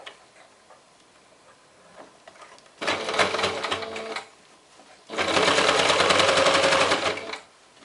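Sewing machine stitches a seam on a heart-pattern fabric pouch, running in two close bursts of steady rapid needle chatter, a shorter run then a longer one, separated by a quiet pause.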